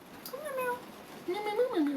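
A person vocally imitates a cat, giving two drawn-out meows with rising and falling pitch, close and clear, the second longer than the first.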